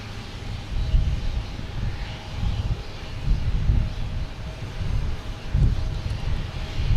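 American Embraer E190 airliner arriving at Boston Logan, a low, rumbling jet drone that swells and fades unevenly under gusty wind noise on the microphone.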